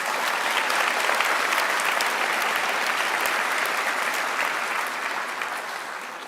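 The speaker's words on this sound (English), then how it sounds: "please give a round of applause to the students and Mrs. Graves." Sustained audience applause fills a graduation commencement ceremony, a dense, steady wash of many hands clapping at full volume that tapers slightly toward the end, with no talking over it.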